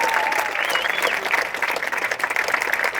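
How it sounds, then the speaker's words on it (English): A stadium crowd gives a warm round of applause for a Director of Athletics, dense continuous clapping filling the space, with a faint tonal whistle or voice briefly above it early on. "Let's give another warm round of applause to our Director of Athletics,"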